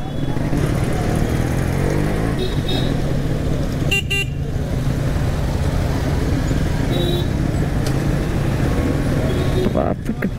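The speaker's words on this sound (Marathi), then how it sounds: "ट्रॅफिक" Busy road traffic at a signal, a steady rumble of cars and motorcycles with short horn toots standing out, continuous and fairly loud throughout.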